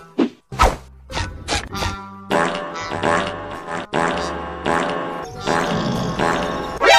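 A meme-style cartoon fart sound comes in several sharp, loud bursts mixed with thumping whacks and comic sound effects, punchy and close.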